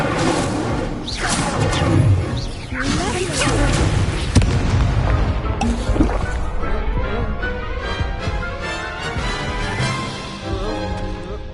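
Fiery spell blasts from the Incendio charm in the video game Hogwarts Legacy: loud booming bursts and whooshes over dense layered game sound, with voices shouting spells through the clip.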